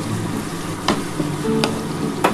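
Mutton pieces frying in oil while a spatula stirs them, a steady soft sizzle with occasional scraping clicks against the pan, close and moderately loud.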